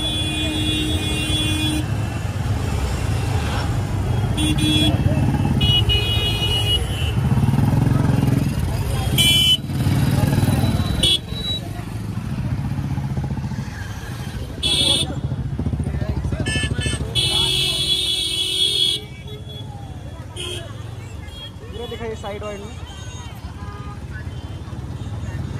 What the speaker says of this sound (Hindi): इतना ज़्यादा यहाँ पर ट्रैफिक भरा है दिन में